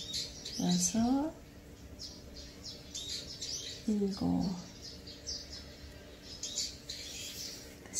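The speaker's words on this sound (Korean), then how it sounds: "새소리가 많이 들리죠?" Birds chirp and call in short bursts in the background outdoors, two clear chirping phrases standing out over steady ambient noise, with faint high twittering scattered throughout.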